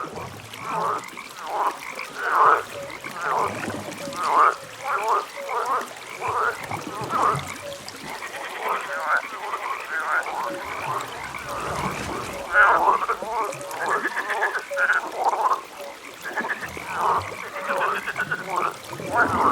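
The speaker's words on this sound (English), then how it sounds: "it will be a night and with the sound of some frogs" Many frogs croak at night in a dense, overlapping chorus, rhythmic pulses rising and falling steadily throughout, fairly close and continuous.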